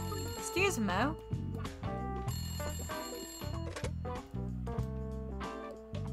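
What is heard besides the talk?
telephone ringing in Layton Brothers: Mystery Room video game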